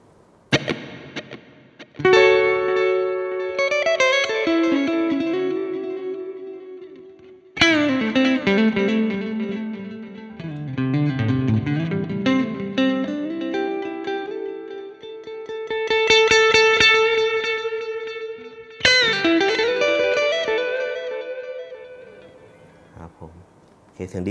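An electric guitar through an Ox Amp Top Box with delay and reverb plays picked phrases whose notes repeat and smear into long echoing swells, several loud passages separated by brief fades.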